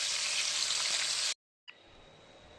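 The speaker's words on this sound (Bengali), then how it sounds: "ভেজে নিই, তোমাদেরকে দেখাচ্ছি।" Prawns frying in a pan give a steady, bright sizzle that stops abruptly, followed after a short silence by a quieter, fainter crackle.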